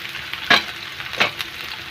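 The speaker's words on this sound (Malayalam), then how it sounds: "ചെറിയ ഉള്ളി ഇട്ട് ഇളക്കി കൊടുക്കാം." Shallots and chopped green chili fry in hot oil for an eggplant stir-fry, with a steady low sizzle broken by two quick, close scraping stirs about a second apart.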